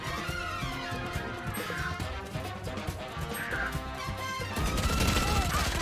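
Bursts of gunfire ring out in the video game Valorant alongside other game effects and tonal sounds, with a louder, denser stretch toward the end.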